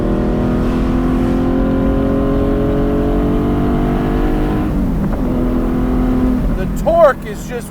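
A Porsche 718 Spyder sports car engine accelerates, droning loud and close with a steady low throb, its pitch shifting partway through as the revs change.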